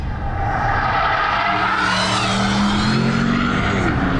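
A car at speed on a racetrack lap, its engine droning loudly with rising gear pitch while tires squeal through a corner, heard close from inside with no talk.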